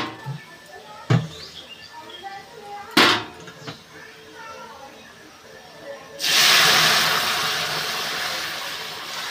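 Cooked dal poured into a hot pan of onions fried until red, giving a sudden loud steam hiss that bursts up and then slowly fades, preceded by a few sharp clinks.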